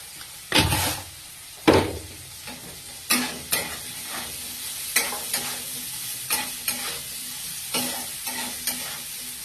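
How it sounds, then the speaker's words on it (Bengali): Boiled potato pieces sizzle in a hot pan while a spatula stirs them, giving a string of scraping, clattering strokes every second or so over a steady low frying hiss, close and fairly loud, with no talking. "তো আলুটাকে এইভাবে নেড়ে চেড়ে খুব ভালোভাবে ভাজতে হবে,"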